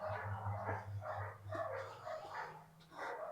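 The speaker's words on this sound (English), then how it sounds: "the dogs are barking like crazy outside" Several dogs bark outside, a run of repeated, somewhat distant barks in an irregular rhythm heard over a low steady hum, with some barks overlapping.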